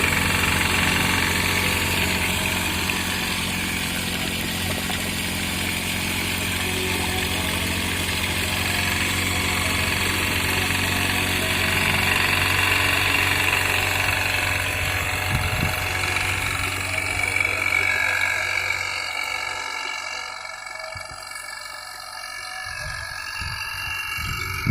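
A small engine runs steadily, driving a homemade water pump that works without mains electricity, a loud continuous droning idle with vibration that eases and roughens toward the end.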